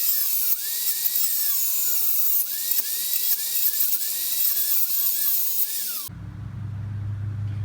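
A high-pitched cutting tool whines while it trims the wheel studs flush on a Chevy Trailblazer to fit wheel spacers. The loud, close grinding rises and falls in several bursts, then cuts off abruptly to a low hum.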